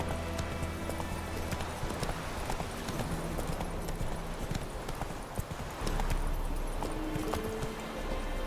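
A horse gallops in The Witcher 3: Wild Hunt video game, its rapid clip-clop hoofbeats rolling steadily and fairly close throughout, with no talk over them.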